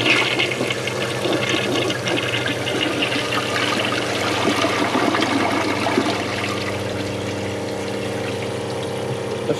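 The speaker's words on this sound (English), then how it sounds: "Let's give it a flush." A 2003 Kohler Wellworth Ingenium toilet with replacement tank parts flushes up close, a loud steady rush of water swirling and draining for the full length, with no talking.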